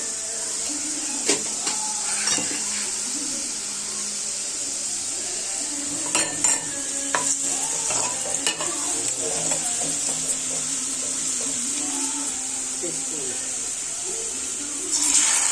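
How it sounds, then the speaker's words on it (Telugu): Onions fry in a pan, a steady faint sizzle broken by occasional scrapes and clinks of a spoon against the pan, close, quiet and intermittent. "ఆనియన్స్ ని బాగా ఫ్రై కానివ్వాలి."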